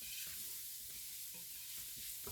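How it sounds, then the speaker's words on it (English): Vegetables and chopped garlic scapes sautéing in about a tablespoon of olive oil over medium-high heat, a steady close sizzle with soft stirring scrapes. "I'm sauteing this over medium-high heat with about a tablespoon of olive oil"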